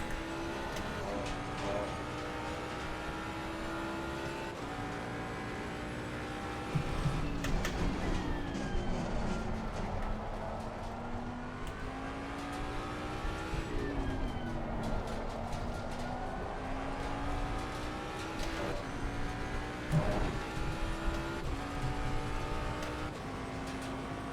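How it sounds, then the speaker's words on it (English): Race car engine in Assetto Corsa Competizione, a droning, rising whine that drops sharply at gear shifts several times over the run, steady and fairly loud with no voices. "That was way too early of an upshift."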